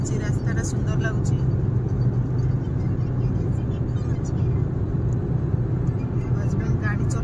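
A family car on a road journey, driven by the husband, rolls along with a steady loud engine and road rumble that fills the whole stretch.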